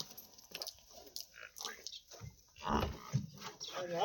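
Lowing and snorting from a water buffalo nearby, with chewing noises and some background voices, growing louder toward the end.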